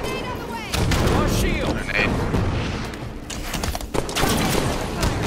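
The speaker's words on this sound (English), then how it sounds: "Grenade on the way." A grenade blast in the Halo 5 video game, a loud boom among bursts of gunfire and chaotic combat noise, with a player talking over the action.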